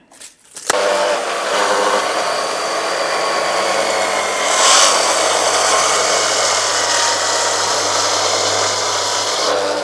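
A power saw cutting a wooden table leg to size for a river table, starting with a click and spinning up into a loud, steady whining roar that holds with a slight swell midway.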